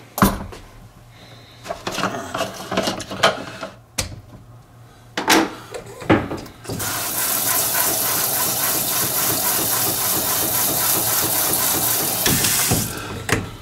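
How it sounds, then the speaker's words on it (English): Brass cartridge cases being rinsed and shaken in a Frankford Arsenal tumbler: scattered knocks and clatter first, then a loud, steady rush of running water for several seconds before it stops abruptly. "I'm going to rinse it one more time."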